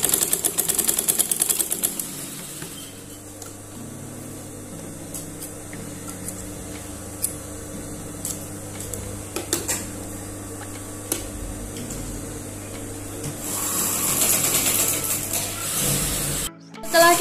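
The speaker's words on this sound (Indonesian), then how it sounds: "Kita jahit semua bagian kupnatnya termasuk bagian rok depan" A sewing machine stitches the darts of a batik skirt with a long run of steady mechanical whirring and rapid ticking, easing off briefly before ending in a short burst of noise.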